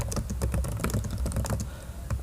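Steady, quiet typing on a computer keyboard while notes are written in the Scrivener writing program, with rapid, continuous key clicks and no voices.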